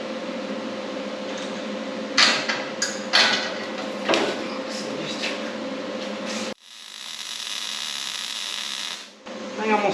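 Electric welding on a shock mount with a bump stop: a steady crackling buzz interrupted by several sharp bursts, then a brief pause and a second run of sizzling arc noise.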